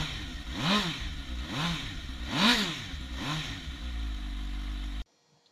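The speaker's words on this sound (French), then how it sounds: "On va quand même vous faire écouter un petit peu le son de cet échappement." A Suzuki GSX-S 750 motorcycle exhaust revs up repeatedly in loud, close blips. Each one rises and falls in pitch over a steady idle, and it cuts off abruptly at the end.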